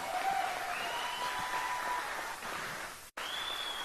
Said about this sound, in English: That applause seems a little tepid